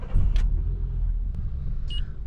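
A Renault Logan's engine idles with a low, steady rumble inside the car with the windows closed, a rough running condition after an air filter change, with a couple of faint clicks and a short beep over the hum.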